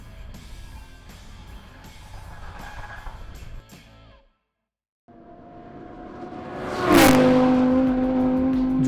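A Lamborghini V10 engine on a racetrack climbs through the revs, dropping out briefly before building again into a loud, sustained high-pitched scream that holds near the end.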